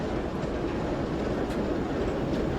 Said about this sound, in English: even they are being pushed around by one of those old diesel shunters